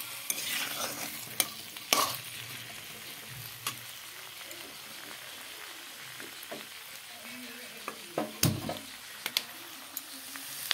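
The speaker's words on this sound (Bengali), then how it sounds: "আলুগুলোকে ভেজে নিই লাল করে" Potatoes frying in oil in a pan, a close continuous sizzle broken by repeated sharp stirring clicks and scrapes of the spatula, no voices.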